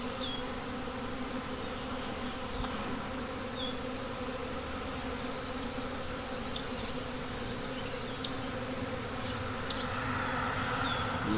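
Honey bees of a rehomed swarm hum continuously around the hive entrance, a dense steady drone with individual bees buzzing closer now and then, no talk over it.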